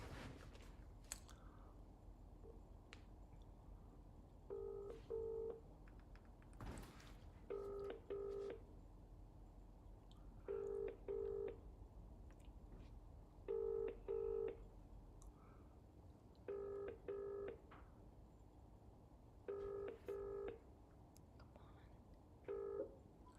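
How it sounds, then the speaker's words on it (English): A telephone number is keyed in as a series of short DTMF tone bursts in small clusters, spaced a second or two apart, with quiet room noise and faint movement between them. "So, we're about to call you."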